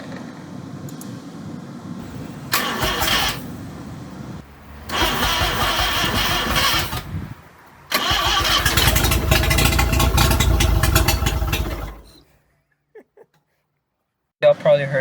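A Mazda RX-7 FB rotary engine cranks in bursts on its first start after 20 years, with repeated loud churning attempts before it roars up briefly, then cuts to near silence; voices are audible around it.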